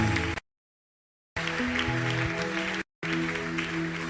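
A church congregation applauds in acclaim during a worship service, producing dense, sustained clapping that cuts out abruptly twice before resuming.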